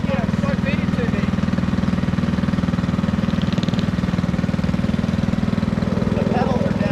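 A cyclekart's small engine runs steadily at close range on the Bonneville salt flats, giving a continuous low, pulsing putter throughout with no clear change in pitch. People talk over it.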